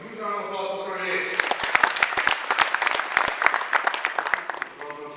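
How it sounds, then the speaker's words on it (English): Audience applause at an IIT conference, sharp individual claps building into a dense round that fades out, with voices heard before and after it. "huge round of applause for Sunday"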